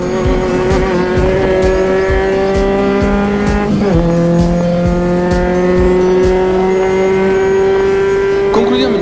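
A Peugeot 205 T16 replica engine revving hard on a circuit, loud and close with rising harmonic whine through the gears, a sharp shift near the middle, then climbing again toward the rev limiter in fifth.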